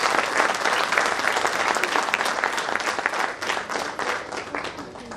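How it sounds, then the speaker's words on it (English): A big round of applause from the audience at the 20th anniversary of a Sunday English speakers' club in Solapur; loud, dense clapping fills the room continuously, fading slightly toward the end. "So I request all of you a big round of applause for all my dear Sathians."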